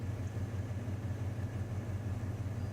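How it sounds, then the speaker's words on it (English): A low, steady van engine rumble idling nearby on Panmure Island, Canada, constant and throbbing, with no voices over it. "you can hear the van grumbling behind me"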